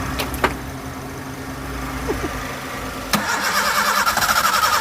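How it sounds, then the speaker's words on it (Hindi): A car with a dead battery, jump-started with cables, cranks with a few sharp clicks and then catches with a sudden burst, settling into a steady idle nearby, with no voices over it. "ये सलट मारा है, ये गाड़ी स्टार्ट"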